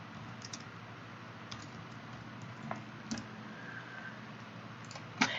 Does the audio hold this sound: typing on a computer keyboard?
yes